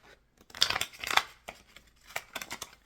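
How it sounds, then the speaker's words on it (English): A deck of playing cards is shuffled by hand in short papery riffling bursts and rustles, close and fairly quiet, with small pauses between them. "Let me shuffle these."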